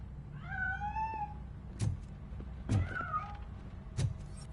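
A cat escaping in the video game Dead by Daylight lets out two clear meows, the second shorter, interspersed with three sharp thumping knocks at a steady pace against a quiet background.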